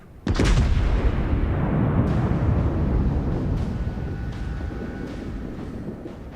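A sudden heavy boom bursts out and then rolls into a long, rumbling roar of distant naval cannon fire and explosions in World of Warships, slowly fading.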